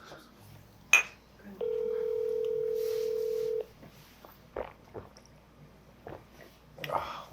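An unanswered telephone call's steady electronic tone sounds for about two seconds amid quiet room noise, with scattered clinks and soft handling sounds around it.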